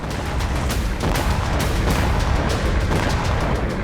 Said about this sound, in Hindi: यूक्रेनी ड्रोन से हुआ जोरदार धमाका